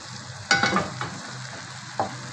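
Shrimp stirred into cooked tomatoes in a frying pan: a soft sizzle broken by a few sharp scraping and clattering stirs of the spoon, close and fairly loud, no talking.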